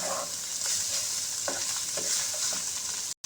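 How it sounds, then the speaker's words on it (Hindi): Ground garam masala being stirred in a pan for Chinese-style fried rice, giving a steady close scraping and soft sizzling with a few sharper spoon clicks, then cutting off abruptly. "गरम मसाला पिसा होया अच्छी तरीके हिला लेने। ये मसाले मिक्स कर लेने।"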